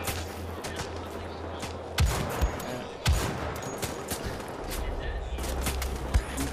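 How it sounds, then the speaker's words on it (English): Rifle shots in Wolfenstein: The Old Blood, a scoped bolt action rifle firing sharp single cracks spaced apart, about three distinct reports amid busy battle noise and scattered other gunfire, with a voice talking over it. "So this is the new bolt action rifle, and I've got the attachable scope right here."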